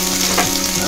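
Dried chilli seeds, mustard seeds, cumin and garlic cloves frying in hot oil for a beetroot fry, a loud steady crackling sizzle with a brief stirring swell midway.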